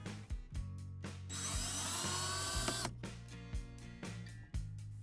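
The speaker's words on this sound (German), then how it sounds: "Hier sieht man schon die erste Kreuzschlitzschraube, die entfernt wird." A Phillips screw is removed from the sun visor of a Mercedes W124 with a power screwdriver, short bursts of whirring motor with one longer run in the middle, close and fairly quiet, no talking.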